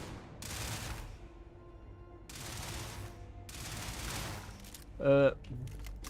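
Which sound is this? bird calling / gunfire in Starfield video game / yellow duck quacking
gunfire in Starfield video game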